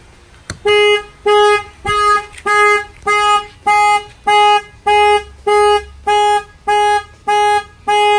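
A Ram ProMaster-based Winnebago Travato camper van's alarm blares in a rapid series of loud, evenly spaced electronic honks, about a dozen blasts repeating without pause.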